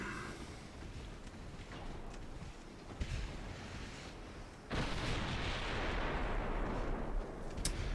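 Naval video game battle with a ship's secondary guns opening up, heard as a dense, rumbling barrage of booming shots under wind and sea noise, with a sharp crack near the three-second mark and a louder, sustained roar in the second half.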